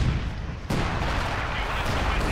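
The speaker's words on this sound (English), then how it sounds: "I have my artillery gun taking that thing out just in the nick of time" An artillery gun fires in Company of Heroes 2, a sharp heavy boom rising out of a dense, loud battlefield din of continuous rumbling gunfire and explosions.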